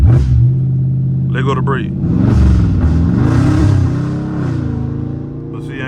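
A Dodge Charger engine on launch control, a loud, deep idle rising into a sustained rev and holding, heard close, with someone talking over it.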